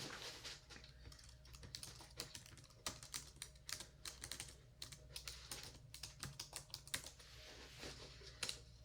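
Soft, close typing on a computer keyboard in a quiet binaural ASMR roleplay, with irregular clusters of light key taps and a few louder strokes over a faint low hum.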